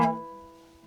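A single short plucked note on a classical guitar, cut off staccato so that it decays quickly into near silence, played alone and close up.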